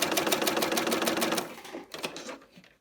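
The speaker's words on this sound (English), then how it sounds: "So I'm just going to go along and stitch this first edge." A serger sews along the edge of fabric with rapid, steady mechanical chattering up close, then slows and stutters to a stop with a few final uneven stitches.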